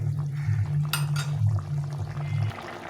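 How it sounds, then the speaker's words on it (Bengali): Water poured into a potato and pointed gourd curry in a pan, a short splashing pour lasting a second or two over a steady low background hum, close and moderately loud. "একটু ডুবু ডুবু করে জল দিয়ে দেবো, কেননা আলু পটলটাকে একটু সেদ্ধ করতে হবে।"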